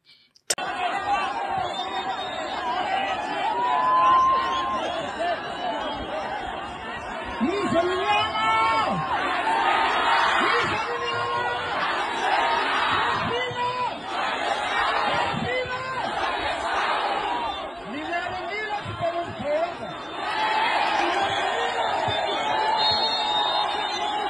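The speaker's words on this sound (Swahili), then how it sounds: "umati mkubwa uliokuwa umejaa mitaani, huku raia wakipiga makofi na kuimba nyimbo za amani na mabadiliko" A large crowd of protesters filling the streets in Madagascar: dense, steady chatter and voices with scattered shouts and laughter, heard loud and close throughout.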